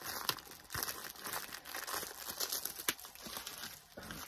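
A plastic-wrapped drinking straw that came with a Dr. Pepper cup is crinkled and torn from its packaging, a steady close crackling with a few sharper rips throughout, no voices.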